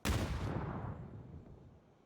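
A single grenade explosion in the video game PUBG: a sudden loud boom at the start that rolls off into a fading rumble over about two seconds.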